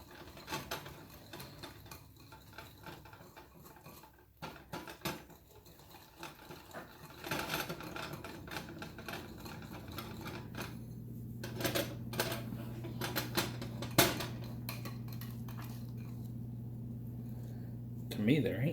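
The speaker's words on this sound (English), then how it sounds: "Back to whisking." Cake batter is whisked by hand in a bowl for a microwave cake, giving a fast, steady run of light rhythmic clicks and taps, with a low hum joining partway through.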